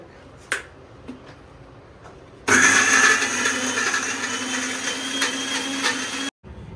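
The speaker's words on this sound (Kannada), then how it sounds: "ಈಗ ಲೆಸ್ಟರ್ ರುಬ್ಬುತ್ತಿದ್ದಾರೆ." A mixer grinder whirs loudly as it grinds spice masala for a Mangalorean-style chicken curry, running steadily for several seconds after a few light clicks and then cutting off abruptly.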